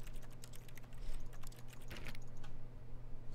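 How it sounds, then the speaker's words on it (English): Rapid keyboard typing from the video game The Stanley Parable clatters in a dense, continuous stream of close clicks over a low steady hum. "Sound like someone's typing."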